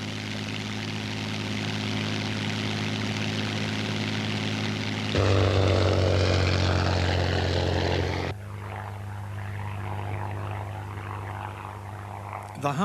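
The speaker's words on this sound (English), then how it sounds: "The Hawker Hind was in service with the RAF in the 1930s" A 1930s Hawker Hind biplane drones past with a steady propeller engine roar, swelling louder in the middle and then dropping back to a lower hum as it moves away.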